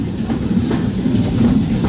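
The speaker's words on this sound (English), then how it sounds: "This old locomotive is descended from the mighty trains that powered the golden age of steam." Riding aboard a steam locomotive train on the Walt Disney World Railroad at Magic Kingdom: a steady, close rumble of rolling cars with faint rhythmic clatter and a light hiss, continuous throughout with no talking.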